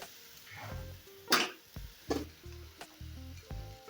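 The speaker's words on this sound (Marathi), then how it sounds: "आवळ्याची पेस्ट टाकायची आहे परतून घेऊया" Amla paste sautéed in a very hot pan, giving a steady sizzle with a loud hiss when the paste goes in and several scraping stirs that follow at regular intervals, close and with no talk.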